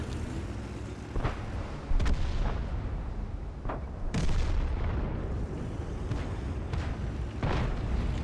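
Tank guns boom in a World of Tanks battle, several separate shots heavy at close range, spaced across the stretch over a steady rumbling engine bed, with no talking.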